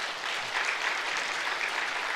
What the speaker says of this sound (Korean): 우리 박수로 한번 격려할까요?